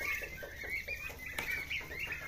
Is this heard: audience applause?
no